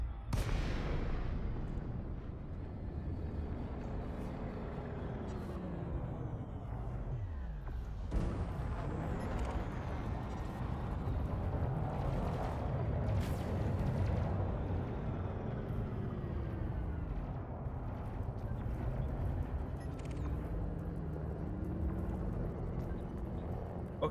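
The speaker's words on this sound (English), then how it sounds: "We just got system defense forces shooting at each other." Combat fire from system defense forces in Elite: Dangerous, with repeated booming shots and whooshing, sweeping tones over a constant dense engine-like roar, all without speech.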